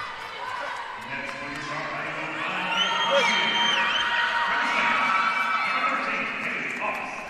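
Arena crowd cheering and roaring as a team of Saints is awaited, a dense, loud wash of many voices that swells after a few seconds and holds steady throughout.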